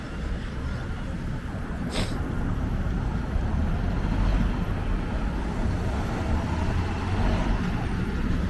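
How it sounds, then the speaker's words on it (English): A brand new Nova hybrid city bus passes along a Toronto street near Wilson Station, its steady engine and road rumble blending into constant traffic noise at close range, with a brief brighter whine partway through. "That's the brand new hybrid bus"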